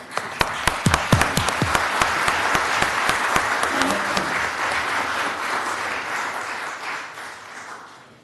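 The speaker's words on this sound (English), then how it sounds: "Even I clap for that one." Applause from the audience at a city commission meeting, starting with a few sharp separate claps that quickly build into steady group clapping before thinning out toward the end.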